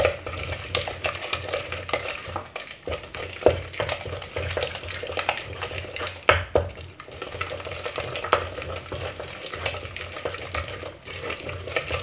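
Egg being mixed into gluten-free cream puff choux dough in a pot or bowl, a steady run of stirring scrapes and soft clanks of a utensil against the vessel, close and continuous with no talking.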